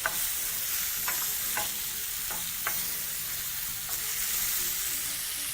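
Pork ribs sizzle and fry steadily in a pan, a continuous close hiss broken by a few brief stirring or scraping knocks, with no voices.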